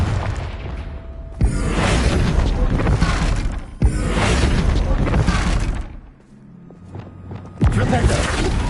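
Confringo blasting curse explosions in Hogwarts Legacy: loud sharp bursts with shattering debris, a first blast around the start, another near four seconds and a third late, with a quieter lull between.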